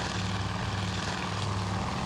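Propeller fighter planes in a World War II naval combat game drone loudly through a dogfight, a dense, continuous engine roar filling the whole stretch with no pauses and no voices.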